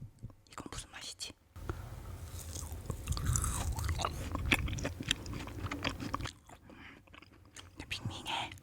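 Frozen kohakutou jelly is chewed close to the mic, with soft crunchy bites and wet chewing mixed with quiet whispered talk.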